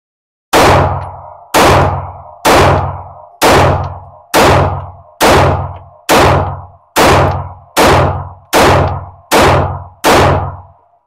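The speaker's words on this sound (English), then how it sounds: "we have the FN 509 Compact Tactical. I've been wanting one of these for a while, so I am really excited to shoot this." Twelve sharp gunshots from an FN 509 Compact Tactical pistol, each a loud ringing crack with a short decaying tail, fired at a steady pace roughly one per second, close by and with no talking.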